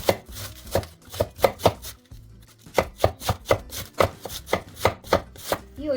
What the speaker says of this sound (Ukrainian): І тепер нарізаємо зручним для себе способом